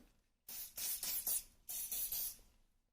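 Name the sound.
hairspray being sprayed on plait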